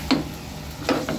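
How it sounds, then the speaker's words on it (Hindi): Masala chickpeas stirred and roasted over high heat in a pan, a soft steady sizzle with a few distinct scrapes or knocks of the spoon, close by, with no talking. "इसे हम करेंगे अच्छे से मिक्स"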